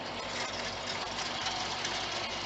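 A 2019 Roxor with a turbo intake valve climbs a hill, its engine giving a steady, close, broadband roar with a faint knocking pulse throughout.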